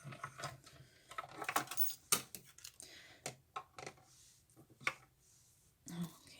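A manual die-cutting machine is cranked through by hand, giving quiet, irregular clicks, ratcheting and mechanical clunks.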